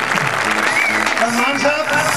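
Audience clapping for a performer at a live Punjabi comedy show, a steady wash of applause throughout with faint tonal music and voices underneath.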